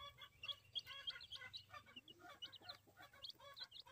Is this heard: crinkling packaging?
no